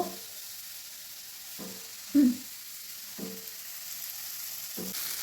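Small pieces of ridge gourd frying with panch phoron in a pan, a steady soft sizzle with a few faint stirring scrapes, close and fairly quiet.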